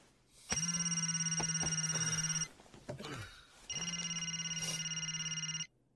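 In a movie scene, a telephone rings in two long electronic bursts separated by a short pause, loud and close with a bright, buzzing tone.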